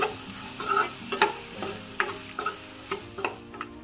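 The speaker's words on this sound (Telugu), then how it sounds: "ఈ ఉల్లిపాయ ముక్కలను అయితే బాగా వేయించుకోవాలి" Chopped onion pieces frying in a pan for an egg masala fry, steady sizzling broken by repeated scraping stirs of a spoon, close and clear with no talk.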